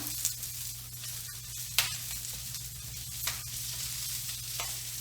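Spinach sizzles in a hot pan as it wilts down for a frittata, a steady, fairly soft frying hiss with a few brief crackles and pops, close and without voices.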